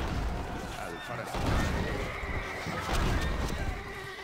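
A horse neighs loudly in the medieval strategy game Stronghold: Crusader, with two whinnies rising over clattering hooves and battle noise, and a game voice speaking over it.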